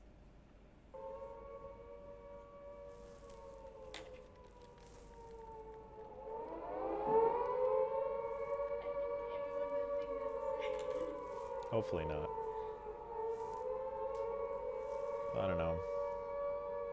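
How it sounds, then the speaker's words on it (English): A civil defense air raid siren of the kind sounded in wartime London wails in long rising and falling harmonic tones, steady and fairly loud throughout, with a brief spoken exchange over it. "The air raid siren that I was trying to imitate a few minutes ago actually sounds like this."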